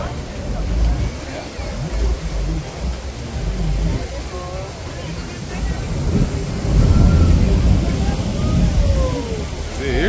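Sea waves wash against a rocky shore at Ensenada, Mexico, with a steady rush of surf and wind, swelling louder in the second half, under faint background voices.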